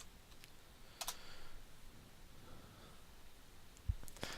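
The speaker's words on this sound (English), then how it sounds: "Type in your password." Soft keystrokes on a computer keyboard as a password is typed, a few faint scattered clicks in a quiet room.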